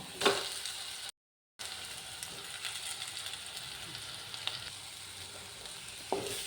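Onion and mashed potato masala for masala dosa sizzle steadily in a pan, a soft continuous frying hiss with a few stirring scrapes, close by and without talk.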